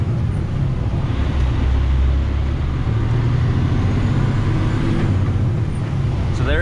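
Dump truck with a splitter gearbox working around a homestead property; a steady low diesel engine rumble runs throughout, with a slight shift in engine tone midway as it changes gear, and no clear talk.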